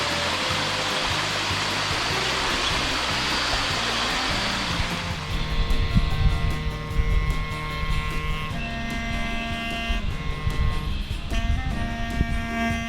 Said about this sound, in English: This is the second big waterfall.